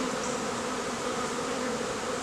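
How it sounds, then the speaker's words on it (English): Dense, steady droning hum of many honey bees swarming around a rescued swarm hive, a continuous close buzz without pauses or talk. "You see there's lots of bees there"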